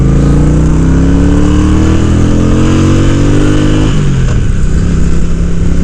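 Honda Shadow ACE motorcycle engine revving loudly and continuously nearby, its pitch climbing steadily for about four seconds before dropping back down as the throttle is released.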